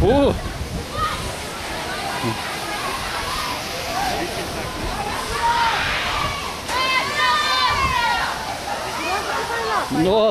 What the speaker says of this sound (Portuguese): Nossa, vem aqui a água.